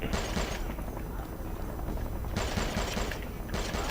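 Heavy machine gun fire in a chaotic Army of Two cartel firefight, a continuous dense roar of rapid bursts that stays loud and close throughout with no voices over it.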